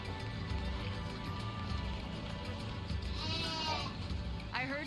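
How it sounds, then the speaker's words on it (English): Sheep bleating in Final Fantasy XIII-2, a couple of wavering bleats rising over a busy game ambience and a low murmur of voices, moderately close. "Looks like you got a bunch of sheep full of wool."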